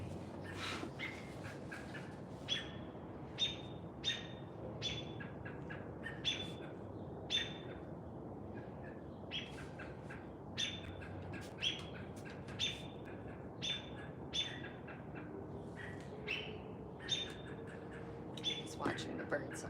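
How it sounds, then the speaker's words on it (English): Birds squawk and chirp back and forth outside in a city setting, a series of short sharp calls repeating every second or so over a steady background hum, moderately distant. "He's watching the birds argue."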